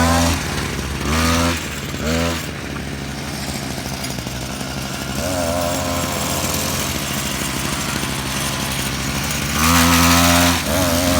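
A V-Fire motorcycle, a small kids' bike, being ridden, its engine buzzing loudly, rising and falling as it passes close and draws away, with louder revving bursts near the start and end.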